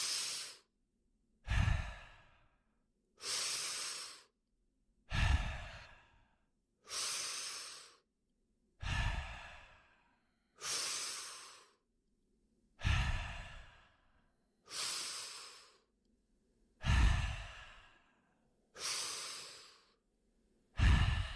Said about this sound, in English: I want you to take 10 highly connected, highly conscious breaths.